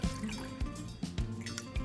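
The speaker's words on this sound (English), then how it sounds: "So this has got water. Probably just a little more water actually." Water poured into an ultrasonic cleaner: a close, steady trickle and fill of liquid with repeated soft drips and dull taps against the tank.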